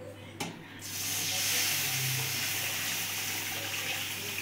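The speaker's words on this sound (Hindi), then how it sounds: "अब इसी में मैं डाल रही हूँ दूध" Milk pours into a pan of roasted vermicelli after the flame is turned off, a soft steady liquid rush and hiss after a brief clink, close and fairly quiet.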